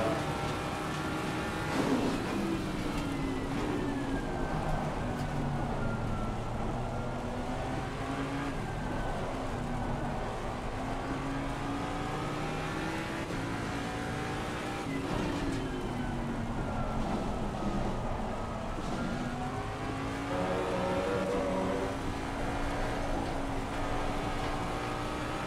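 Race car engine in a video game at Spa in the rain, revving up and down through gear changes over a steady hiss of spray and road noise, sustained throughout with no voices.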